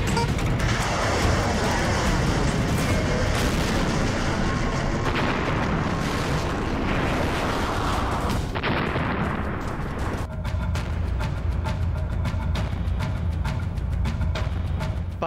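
Artillery fires after a launch command in a long, loud sequence: a sustained roaring blast builds and rumbles, then cuts off into sharp crackling bursts and echoing rumble close to the listener.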